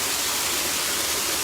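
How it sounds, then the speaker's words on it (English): A loud waterfall at a zoo pours in a steady, dense rush of broadband noise, with no pauses or voices. "you guys can have a easier time hearing the loud waterfall"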